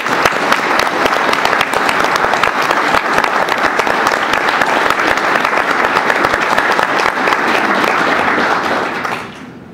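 A meeting audience gives a sustained, loud round of applause lasting nearly ten seconds, dense and even before tapering off abruptly at the end, with no talking over it.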